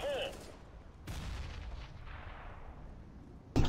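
A grenade explosion in the video game CS:GO on the Cobblestone map booms and rumbles, with a second sharp blast near the end, heard against a game background.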